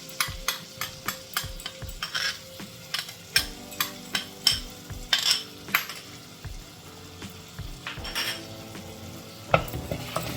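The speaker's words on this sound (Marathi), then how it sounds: "यात मी आता मगाशी आपण जे कांदा खोबऱ्याचं वाटण केलं ते टाकून छान आपल्याला भाजून घ्यायचं आहे." Onion and coconut paste fried and stirred in a pan, with a steady rhythm of spatula scrapes and knocks over a low sizzle, close and fairly loud, with no voices.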